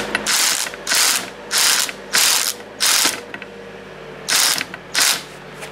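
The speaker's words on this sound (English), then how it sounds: "Sometimes I actually have a little bit of luck using the puller and the little rattle gun." A small impact wrench (rattle gun) driving a puller to remove bearings from a tractor PTO shaft, firing in six separate loud rattling bursts, each about half a second long, with short quiet gaps between them, close up.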